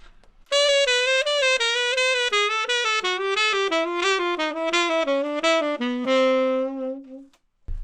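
Solo tenor saxophone runs a jazz enclosure pattern descending the scale, a quick string of tongued notes stepping downward and ending on a held low tone, close and unaccompanied.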